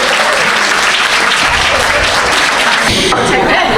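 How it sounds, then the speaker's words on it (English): Loud, dense applause from an audience at the Scarlet Stiletto Awards ceremony, sustained and close throughout. "So big round of applause to all of the highly commended"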